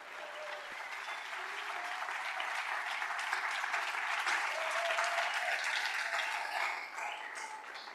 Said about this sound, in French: Un applaudissement pour eux